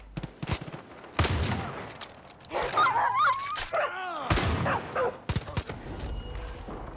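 A dog in the video game Far Cry 5 barks in several sharp, loud bursts mid-clip, amid rapid gunfire crackle and other game action noise.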